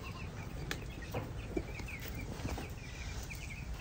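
Forty-five-day-old broiler chickens murmur and cluck faintly in a dim farm house under netting, with soft scattered calls over a constant low background hum.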